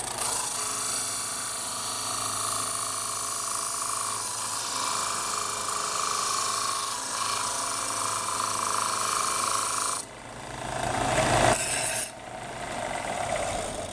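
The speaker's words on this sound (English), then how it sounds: "take this guy over to my sander, and we're going to sand off about 1/4 of an inch of it" A power sander grinds steadily against the wooden end of a handmade flute, a continuous close rasping hum that breaks off briefly near the end and then resumes with louder contact scraping.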